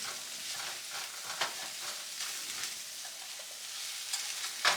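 Flipped eggs, cooked soft and fluffy for a large breakfast, fry in a pan with a continuous soft sizzle and crackle, broken by a few light scrapes, and no voices.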